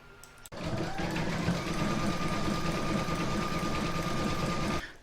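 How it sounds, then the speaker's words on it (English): An embroidery machine stitching an in-the-hoop towel topper runs with a steady, fast mechanical whirr and hum close by for several seconds, then stops abruptly. "I'm now going to pop that in my machine and stitch round number 5"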